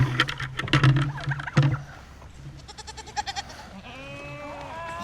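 Goats bleat on a farm, nearby and repeated, with a few loud calls early and quieter bleating later over a low background hum.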